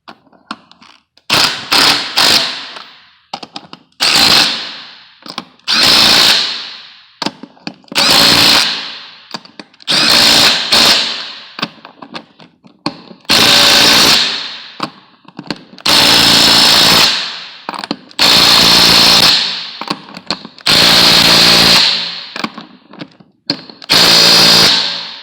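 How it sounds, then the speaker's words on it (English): A Kobalt 24-volt brushless compact half-inch impact wrench tightens lug nuts while a wheel goes back on a car: loud, close bursts of rapid hammering, each lasting a second or two, repeated about ten times with short pauses between them. "That's the Cobalt 24 volt brushless compact half-inch impact."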